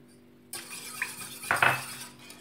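Egg yolks and sugar are mixed in a bowl with a utensil, starting abruptly with clinks and scraping against the bowl, a few sharper knocks near the middle, close and without speech.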